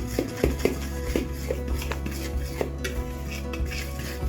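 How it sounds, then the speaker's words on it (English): Fork clinks and scrapes against a bowl while ingredients for maple pumpkin dinner rolls are mixed, light irregular taps over a low steady background hum, with no talking. "I'm just going to give this a little mix with a fork."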